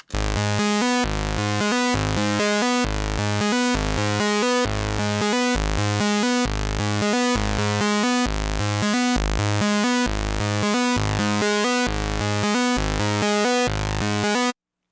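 A thick, buzzy synth bass in the style of a particular track pulses in a steady repeating pattern, loud and continuous throughout with no voices.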